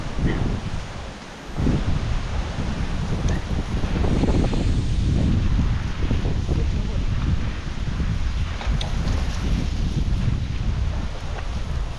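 Strong, cold wind roars steadily across the microphone for the whole stretch, loud and gusty, with a brief lull near the start, and a voice may be faintly present beneath it.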